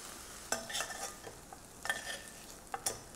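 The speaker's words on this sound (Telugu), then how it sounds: "బీరకాయలు, టమాటాలు, వెల్లుల్లి, పచ్చిమిర్చి అన్నీ ఇలా బాగా వేగాలి." Ridge gourd, tomatoes, garlic and green chillies fry in a pan for chutney, giving a low sizzle under sharp, scattered scrapes and knocks of a stirring utensil, quiet and fairly close.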